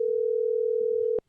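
A steady telephone dial tone hums for about a second while a call is being placed, then cuts off abruptly with a click, heard close and alone.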